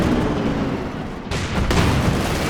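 Gunfire from a 6-pounder anti-tank gun and a Panzer IV tank in a video game battle, heard as a dense, continuous wash of booming shots and rumble with no clear gaps.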